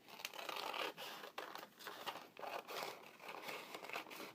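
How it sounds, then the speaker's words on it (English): Scissors cutting off part of a folded paper square during mixed media flower crafting, with close, crisp crinkling snips and rustling paper in an irregular rhythm, no talk. "And we'll cut this part off."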